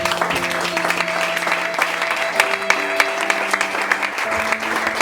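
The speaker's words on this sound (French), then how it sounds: "On va acclamer la parole de Dieu." A church congregation claps continuously and loudly for several seconds in a dense, steady wash of applause, with a sustained tone running beneath it.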